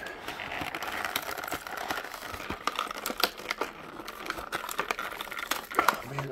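Plastic blister packaging around a diecast toy truck crinkles and crackles in irregular close bursts while someone talks over it.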